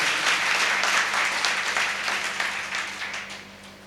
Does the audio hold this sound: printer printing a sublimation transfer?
no